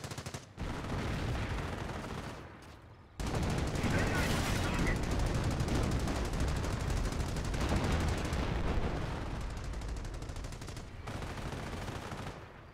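Continuous battlefield gunfire and heavy explosive booms from the Company of Heroes strategy game on the Sturzdoff map, loud and dense for most of the stretch, with a brief dip near the start and speech-like noise mixed into the din.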